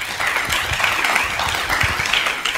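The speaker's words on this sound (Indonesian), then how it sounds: "Boleh berikan tepuk tangan yang begitu meriah." A crowd applauds loudly and continuously at a live Ramadan religious gathering in East Java, a dense wash of clapping that holds steady throughout with no talking.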